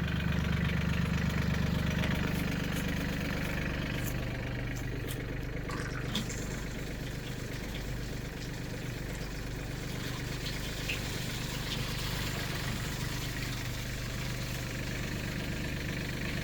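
A truck engine idles steadily up close, left running to keep its hydraulics pressurized at a shipping container homestead, with an even rumble that stays constant throughout and no talking.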